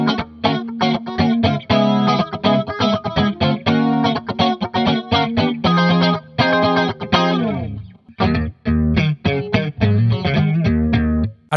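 A Stratocaster-style electric guitar on its out-of-phase pickup setting plays a fast, rhythmic blues-rock riff of short driven chords and bent notes, thin and quacky with distortion and effects, loud and close with no talking.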